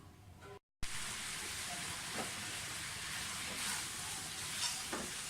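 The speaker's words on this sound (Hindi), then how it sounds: "चिकन मैंने डाल दिया कढ़ाई में। इसको थोड़ा सा भूनेंगे चिकन को" Chicken fries in a karahi with a steady low sizzle and a few soft stirring scrapes, after a brief silent gap at the start.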